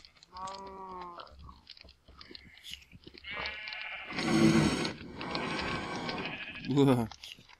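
Bleating of sheep in the Minecraft video game, playing alongside chewing-like crunches and several short bursts that rise and fall, moderately loud and close, with a voice speaking around them.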